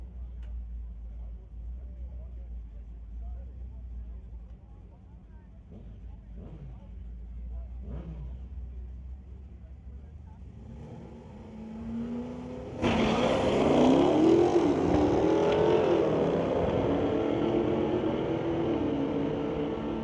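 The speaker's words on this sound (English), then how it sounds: "The 1983 Ford facing off against Clayton Schultz's 2019 Challenger" A 1983 Ford and a 2019 Challenger launch off the line in a street-legal drag race at Mission Raceway Park. Engines idle low and rumble, then a sudden loud roar of acceleration bursts out and holds strong to the end.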